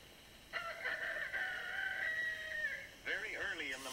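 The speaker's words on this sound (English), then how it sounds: "Very early in the morning, the rooster..." A rooster crows twice in the early morning, a long drawn-out call followed by a second starting near the end, moderately close and clear against a quiet background.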